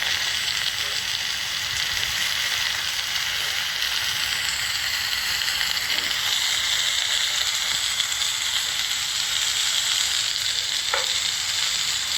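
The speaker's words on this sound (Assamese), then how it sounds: "এনেকৈ আলুখিনি মই অলপ ভাজি ল'ম।" Steady, dense sizzling of potatoes with a little turmeric frying in hot oil, continuous and fairly close, with a couple of faint clicks and no voices.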